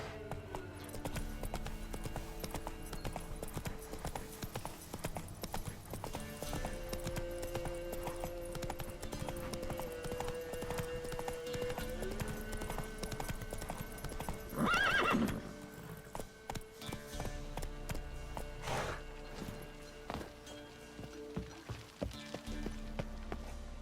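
Horse hooves clip-clop at a steady galloping rhythm across a rough road in The Witcher 3, loud and close, with a sharp whinny partway through and game music and ambience beneath.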